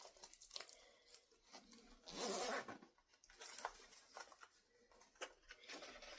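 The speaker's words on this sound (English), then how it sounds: "I would pull that zipper closed." A zipper is pulled closed on a handmade sewn fabric satchel, making a close, crisp rasping run of about a second. Quieter handling rustles and clicks come before and after.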